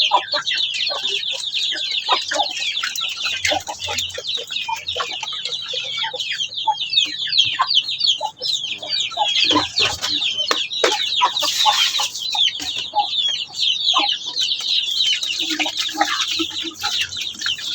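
A flock of chickens being fed, clucking constantly and close, overlapping calls with occasional louder squawks, no talking.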